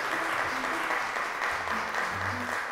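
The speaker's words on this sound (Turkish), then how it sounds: "Alkışlıyoruz arkadaşlarımızı." Studio audience applauding the contestants at the quiz tables on a Turkish TV quiz show, a steady wash of clapping with faint voices murmuring underneath.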